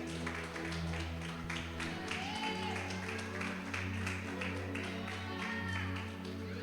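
A church congregation claps together in a sustained round of applause over a low musical drone, continuing throughout.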